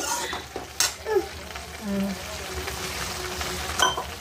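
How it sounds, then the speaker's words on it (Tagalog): Food bubbles and sizzles softly in a pot, with occasional clinks of utensils and a voice speaking briefly nearby. "Ayan, dahil kumukulo na siya."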